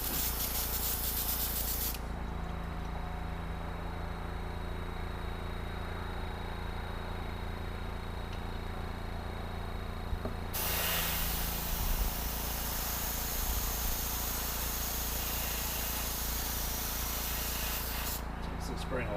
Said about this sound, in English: Turn the airbrush on.